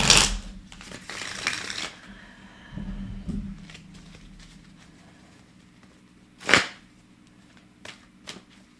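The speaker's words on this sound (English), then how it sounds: "I'm going to lay out your cards and then we'll talk about it" Tarot cards are shuffled and laid out on a surface at close range, with a burst of riffling at the start, soft slides and taps, then a sharp card snap and a few light placements amid quiet pauses.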